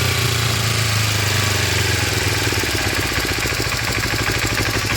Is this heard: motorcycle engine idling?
yes